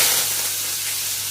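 Mustard seeds and cumin sizzling in hot oil for a spinach bhaji, a steady close bright hiss that fades slightly and holds even.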